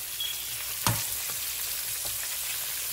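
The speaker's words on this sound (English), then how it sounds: "this is the outcome of frying quail." Quail frying in a pan gives a steady, close sizzle that runs through the whole stretch, with one sharp crackle or pop partway through.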